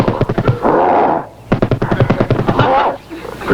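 A gorilla in a 1966 sitcom pounds its chest in two rapid, loud bursts of thuds separated by a short pause.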